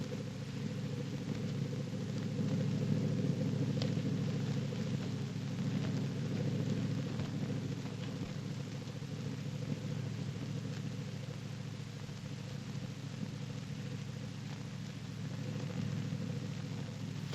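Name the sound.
boat engine off screen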